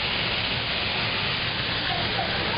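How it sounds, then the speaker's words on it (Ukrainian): The Düden waterfall in Turkey roars as a constant, dense rush of falling water, loud and unbroken throughout. "Ось Тут вид на водоспад."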